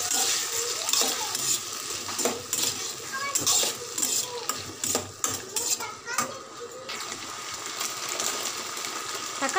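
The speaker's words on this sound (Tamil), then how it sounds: "தக்காளியும் சேர்த்து நல்லா வதக்கிக்கலாங்க." Onions and tomatoes sauté in a pan with a steady sizzle, while a spoon scrapes and clinks against the pan in an irregular stirring rhythm close by.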